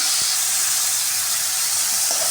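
Sliced tomatoes hit hot oil with fried onion, ginger and garlic for a banana-stem kurma, giving a loud, even, steady sizzle throughout, with no talk.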